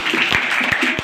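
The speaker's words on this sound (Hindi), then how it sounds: "तालियां।" Audience clapping at a school Independence Day cultural program, a short burst of scattered handclaps with some voice-like sound mixed in.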